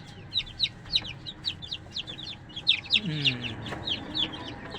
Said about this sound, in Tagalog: yun yung nanay niya, nasa pugad pa